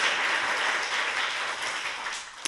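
Audience applause rings out steadily for the full stretch during a Korean political talk-show taping, a dense wash of clapping that fades slightly near the end with one sharp clap standing out.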